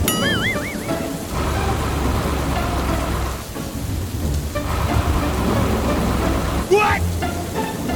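Heavy rain pours steadily in a dark forest with thunder rumbling underneath, a loud dense wash of water mixed with a few whooshing, sliding cartoon sound effects.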